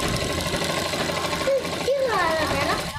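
Sewing machine stitching a gents kurta, a steady close motor whir and needle rattle running throughout while a voice talks over it.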